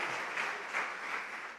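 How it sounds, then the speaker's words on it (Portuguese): A church congregation bursts into loud, sustained applause, a dense wash of many hands clapping together with slight swells, filling the whole moment without speech. "Você pode aplaudir bem forte o Senhor."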